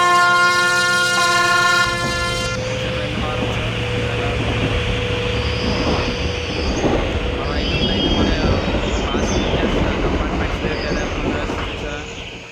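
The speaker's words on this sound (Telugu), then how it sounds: "చూసారు మన ఆపోజిట్లో అయితే ఇంకో ట్రైన్ అయితే వచ్చేస్తుంది గాయస్." A train passes in the Indian Train Simulator mobile game, opening with a loud sustained horn blast and then a steady rumble and clatter of wagons rolling close by for several seconds.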